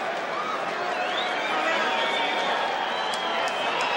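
Boxing crowd in an arena in Phoenix after a first-round knockout, a steady roar of cheering and applause filling the hall, with a commentator talking over it.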